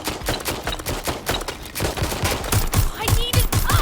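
Rapid bursts of video game gunfire from Watch Dogs: Legion rattle close and loud, with sharp repeated shots mixed with shouting voices and growing denser toward the end.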